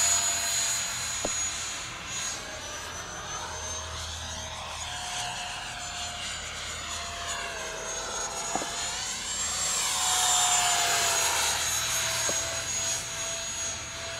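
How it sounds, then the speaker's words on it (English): A Viper Jet model aircraft with a 50mm electric ducted fan flies at half throttle, giving a steady thin high whine that swells and fades as it passes, with soft wind noise underneath. "That's about half throttle there."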